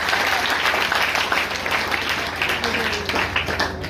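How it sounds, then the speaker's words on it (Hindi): Loud, sustained applause from a class of trainees at a career training session, dense clapping filling the whole stretch without letting up. "जोरदार तालियां उसके लिए"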